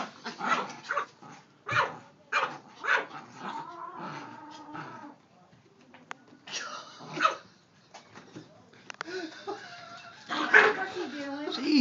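A playful dog lets out a run of close barks, yips and whimpers while grabbing at a toy held above it, with people talking and laughing over the noise throughout.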